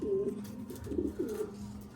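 A female pet pigeon coos in soft, low, rolling phrases, several short throaty calls in a row, close by and with no talk over them.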